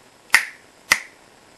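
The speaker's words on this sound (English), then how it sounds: "And I'll do a double snap." Two crisp finger snaps ring out about half a second apart, close and sharp, each with a quick decay into near silence.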